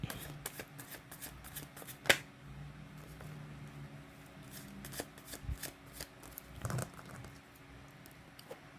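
Tarot cards are shuffled by hand in a quiet room, a soft papery riffle with scattered flicks and taps, one sharper snap standing out, close and faint.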